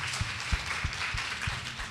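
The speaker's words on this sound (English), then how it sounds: "So give yourself a hand clap." Scattered claps from an audience at a business talk, a handful of fairly soft hand claps spread over two seconds against room noise.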